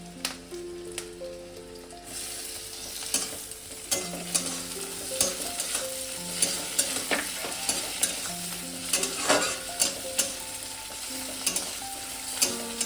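Paneer manchurian with chopped tomato frying in a pan, a constant hiss of sizzling oil broken by repeated scraping and stirring strokes of a spoon, close and steady without speech.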